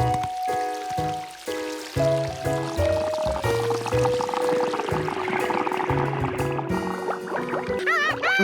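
Cartoon water pours and splashes over a bright musical score with sliding tones, a continuous splashy rush rising toward the end, loud throughout with no speech.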